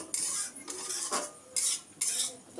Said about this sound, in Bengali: তো প্রথমে দেখি নাড়ি